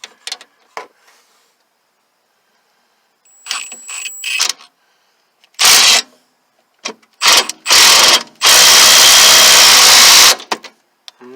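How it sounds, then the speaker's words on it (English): A screw gun in impact mode drives a brake bracket bolt on a 1998 Maxima during backyard brake work, giving several loud bursts of hammering rattle, short at first and then a long sustained run near the end, with quiet gaps between. "grab my screw gun, put it in for impact mode"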